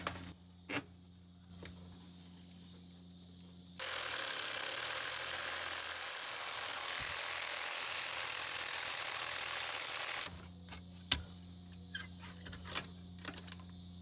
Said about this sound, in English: We're going to connect to this casing with the sawzall to get this off of here.